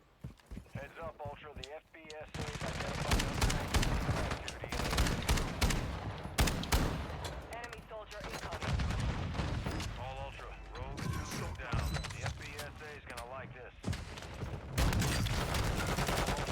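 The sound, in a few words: gunfire in the video game Call of Duty Warzone 2.0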